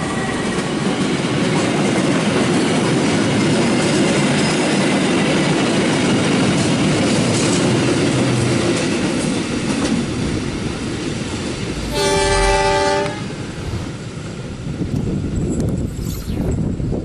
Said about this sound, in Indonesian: terlihat ada kereta balas sedang melaju ke arah barat nih